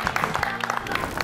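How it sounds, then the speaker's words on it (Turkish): A small group of people in a Turkish reality-show studio claps briefly in a quick, uneven patter of individual hand claps, heard fairly close. "Hadi alkışlayın."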